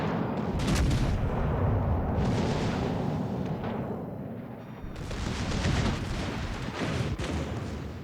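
Warship guns firing in the video game World of Warships Legends, a heavy, continuous roar of booming salvos and rumbling blasts, loud and dense throughout with repeated sharp bursts.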